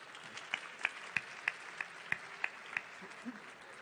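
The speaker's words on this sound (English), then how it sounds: "Round of applause, please." Sparse, faint claps at a tech conference Q&A stage: single hand claps spaced at a steady beat, quiet and distant over a low room hum, with no sustained roar from the audience.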